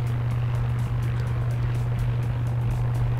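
A helicopter in the video game Far Cry 6 flies with a steady low rotor thrum and a rhythmic blade chop, loud and constant throughout, with no speech over it.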